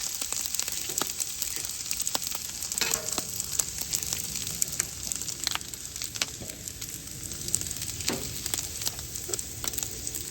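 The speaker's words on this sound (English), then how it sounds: "Throw a little butter on here." Butter sizzles and crackles steadily on a hot hibachi griddle ahead of a smoked ribeye steak, with a close, continuous hiss broken by scattered pops and a few utensil scrapes. No one speaks.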